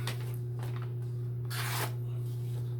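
Knife blade stroked across a DMT coarse diamond sharpening plate, giving a few short raspy scrapes with one longer, louder pass, over a steady electrical hum.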